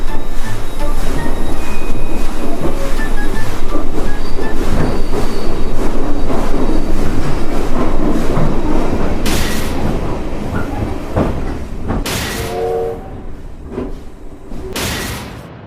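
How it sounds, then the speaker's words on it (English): A train runs loudly along the tracks with continuous rumbling and clatter, wheels squealing, and a few sharp clunks as it slows. "I don't belong to this railway journey at all."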